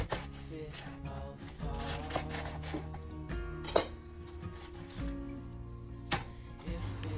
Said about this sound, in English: So I've just got some beautiful rainbow silverbeet here, and I'm just cutting that up into little bits.